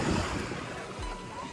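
Sea waves wash in at White Beach in Puerto Galera, a broad rushing surf heavily mixed with wind buffeting the microphone, close and fairly loud.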